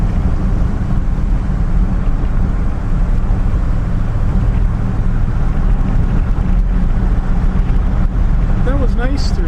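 A 1959 Chevrolet Bel Air cruising along a country road in a low gear, a loud continuous engine drone mixed with rushing wind noise.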